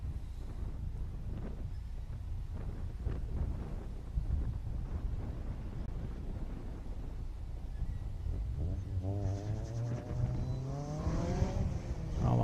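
A Toyota Supra on an autocross solo run at St Lucie Fairgrounds, engine revving and rising through gears, heard from trackside under heavy wind noise, pitch climbing clearly toward the end.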